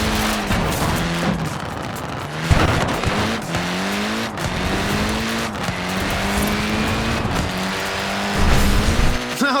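A Mini in the racing game Forza Horizon 4 revs hard with rising and falling engine tones, tyres screeching and scrabbling as it slides, loud and continuous with a few abrupt thumps.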